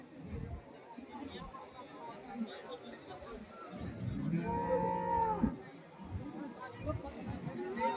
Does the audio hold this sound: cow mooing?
yes